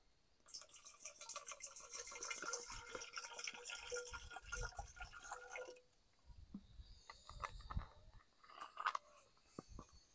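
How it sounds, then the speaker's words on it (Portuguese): Tobacco water, 500 ml, pours into a container for a homemade organic pesticide, a steady splashing and trickling stream for several seconds that then breaks into softer drips and gurgles, close by with no talking. "Aqui, pessoal, vou colocar 500 ml de água de fumo."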